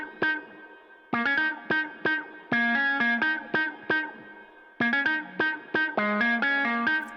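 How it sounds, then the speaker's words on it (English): Electric guitar with reverb added in Reason 13.1, playing short plucked notes and chords in bursts with gaps, each note ringing into a reverberant tail, clear and up close with no talking. "we can add a little bit of reverb to that."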